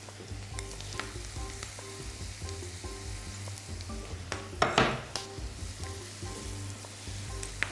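Onions sizzle and fry in a pan, a steady crackling hiss with occasional utensil clinks and a brief louder scrape partway through.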